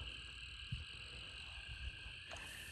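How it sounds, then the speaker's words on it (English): Frogs croak around a pond at night, a steady chorus with a few nearer, louder croaks standing out against the drone and no talking. "I tried to keep the narration kind of minimal because of how loud the frogs can be"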